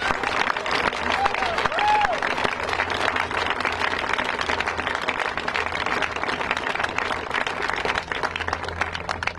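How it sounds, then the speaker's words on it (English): Sustained applause fills a legislative building as lawmakers are honored at a healthcare bill signing, a dense steady crowd clapping with some cheering and voices mixed in throughout. "I think they deserve a huge round of applause."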